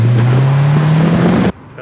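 A Honda engine climbs steadily in a loud, close rev during a mini wheel spin in traffic, then cuts off abruptly into a quieter background.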